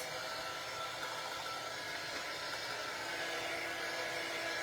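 A hair dryer blows steadily to dry fresh paint, a constant loud whooshing roar with an even tone and no breaks, close and alone.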